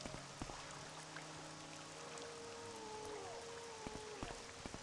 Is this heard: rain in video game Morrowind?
yes